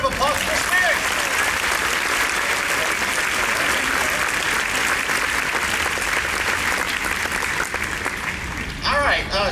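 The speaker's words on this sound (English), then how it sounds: "Round of applause for Chris." A convention audience at the D23 Expo Haunted Mansion 50th anniversary panel gives loud, steady applause from a large crowd for the whole stretch, with a voice emerging briefly at the very end.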